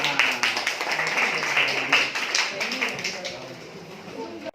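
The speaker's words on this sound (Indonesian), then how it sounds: "Beri tepuk tangan untuk kelompok 6." Applause for group 6 at a teacher-training presentation session, a steady wash of clapping hands sustained through the stretch, with voices faintly mixed underneath.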